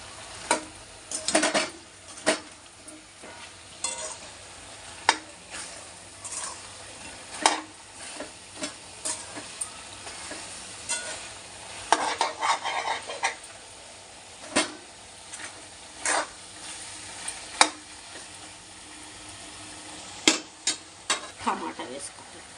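Chicken curry with salt and chili powder cooks in a pan, a steady sizzle under repeated scraping spoon strokes and clinks that come at an uneven rhythm throughout, with no one talking.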